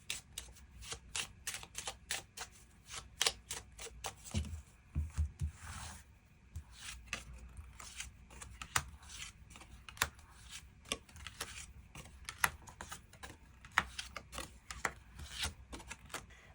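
Tarot cards being shuffled and drawn, with repeated crisp riffling bursts and soft sliding, rubbing card sounds in an irregular rhythm, close up and without talk.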